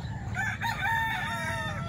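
A rooster crows at a busy chicken market in Calumpit crowded with fowl, one drawn-out call rising and falling, moderately distant over a low murmur of background market noise.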